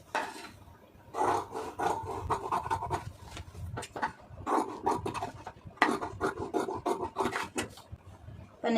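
Scissors cut through blouse fabric along marked lines, giving close, rasping bursts of slicing and rubbing cloth with short pauses between runs of strokes.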